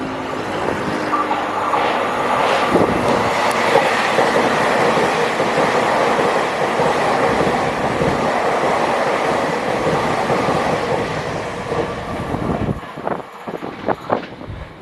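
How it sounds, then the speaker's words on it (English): A loud EMU3000 electric express train of Taiwan Railways rushes past a station with a sustained rumbling roar and whine, then fades out into a few clattering rail knocks near the end. "here comes a EMU 3000. This is the fastest type of train run by TRA right now."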